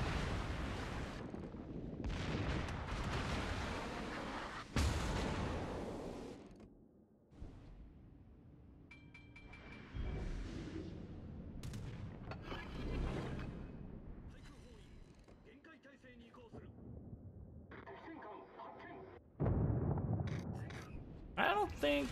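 German battleship guns firing armour-piercing shells in World of Warships, heard as heavy booming salvos spaced across the stretch with rumbling gameplay and someone talking over the action.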